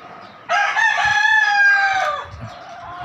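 A gamecock rooster crows once, loud and close, one long drawn-out call, with soft clucking from other fowl in the background before and after.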